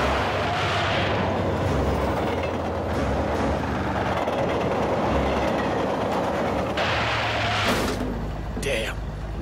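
A train rumbles past in a video game, a loud, continuous low roar with rattling wagons and clattering bursts, heavy and close throughout.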